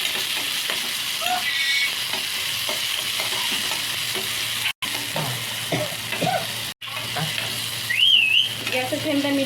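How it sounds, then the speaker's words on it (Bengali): Tomato, grated ginger and four slit green chillies frying over a medium gas flame, with a steady close sizzle, repeated scraping stirs and two very brief dropouts; no talking. "রেখে একটু ভালো করে নাড়াচাড়া করে একটু ভেজে নিচ্ছে।"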